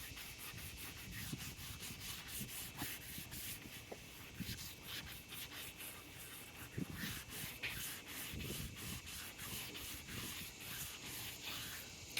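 Wet hand sanding of a car headlight lens with 180 grit sandpaper, a steady rhythmic scratchy rubbing with repeated back-and-forth strokes, close and continuous throughout.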